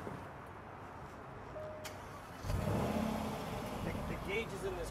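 A 2012 Jaguar XJL engine fires up midway after quiet cabin ambience, settling into a smooth, moderate idle and rising hum as the car pulls away, with someone talking faintly over it.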